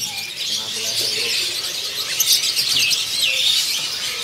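A sooty-headed bulbul in a bird shop gives bright, repeated chirps and rising whistled notes, loud and close. A voice talks underneath.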